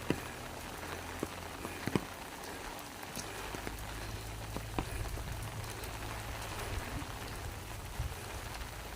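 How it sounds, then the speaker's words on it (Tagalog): Steady rainfall patters on a nearby surface in Tagaytay City, Philippines, a constant wash of drops with occasional louder splats and a low rumble underneath. "Ulan."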